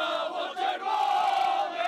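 A large crowd of football fans at a championship chants and roars together, a loud, sustained collective cheer with voices rising and swelling in unison.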